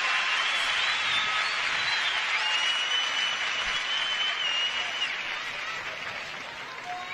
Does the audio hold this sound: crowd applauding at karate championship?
yes